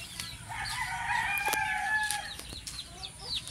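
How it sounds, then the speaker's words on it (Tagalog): Young white gamefowl chicks and stags in a backyard pen, a busy mix of high peeping, clucks and short crowing calls overlapping at moderate volume, with a few sharp clicks and taps among them. "Yan mga sisiw natin."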